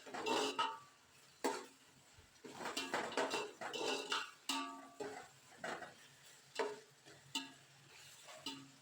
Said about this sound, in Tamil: 2 டீஸ்பூன் இஞ்சி பூண்டு பேஸ்ட்டு சேர்த்துக்கலாங்க. இப்போ இந்த இஞ்சி பூண்டோட பச்சை வாசனை போகிற வரைக்கும் நல்லா வதக்கிடுங்க